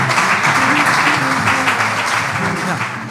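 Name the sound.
applause for the guests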